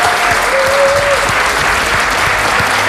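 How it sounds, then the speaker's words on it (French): A large live audience applauds loudly and continuously, a thick wash of many hands clapping close by with a few faint voices mixed into the crowd. "Vous pouvez vous applaudir."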